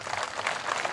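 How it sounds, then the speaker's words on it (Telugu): Audience clapping at a Kapu community unity gathering, a dense, even wash of applause filling the whole brief moment at moderate level. "ఒకసారి గట్టిగా చప్పట్లు కొట్టాలి అందరూ"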